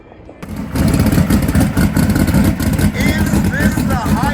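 A drag racing car launches hard on boost at a grudge race at Ubly Dragway, a loud sustained engine roar kicking in after a brief quiet start, with an announcer and crowd chatter layered over it.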